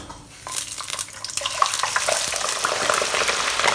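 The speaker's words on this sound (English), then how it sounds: "Now we are going to fry the potatoes." Potatoes dropped into very hot oil in a pan set up a steady, close sizzle of crackling bubbles that swells after the first second and holds at full strength to the end.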